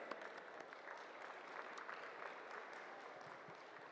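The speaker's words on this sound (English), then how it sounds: "A huge round of applause for our paper presenters." An audience at a professional knowledge session claps for the paper presenters, steady continuous applause with no one speaking, moderately distant and fairly quiet.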